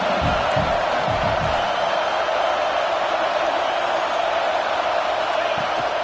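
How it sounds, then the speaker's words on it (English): A football stadium crowd gives a loud, sustained roar that fills the whole stretch, steady and dense, with a few deeper shouts near the start. "This crowd trying to make life miserable for this offense."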